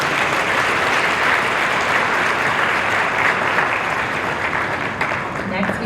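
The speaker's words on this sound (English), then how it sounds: "Let's give a round of applause for our debutantes." A crowd gives a sustained round of applause for debutantes at a Fire & Ice cotillion, a dense, even wash of many hands clapping throughout with no break.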